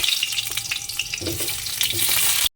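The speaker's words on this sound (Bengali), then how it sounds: "তেলটা গরম হয়ে গেছে আগে আলুটা ভাজতে দিয়ে দেবো" Potato pieces frying in hot oil, with carrots, tomatoes and chopped onion prepped nearby, give a steady close crackling sizzle and a few stirring scrapes, loud and continuous with no talking.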